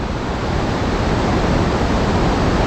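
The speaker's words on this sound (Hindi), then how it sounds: "कोई धारा यहाँ से आ रही है, कोई वहाँ से आ रही है, कोई यहाँ से आ रही है।" Glacial meltwater streams flowing near Chandratal Lake in the Himalayas of Himachal Pradesh, heard as a loud, steady, broadband rush of water that continues unbroken throughout, with no voices.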